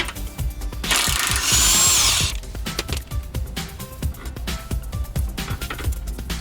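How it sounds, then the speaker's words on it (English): An 18mm socket on a power tool spins off a stabilizer bar link lower nut during suspension work, one loud whirring burst early on, followed by clanking, clicking tool handling. "remove the stabilizer bar link lower nut and position the stabilizer bar link aside. This is an 18mm socket and bolt"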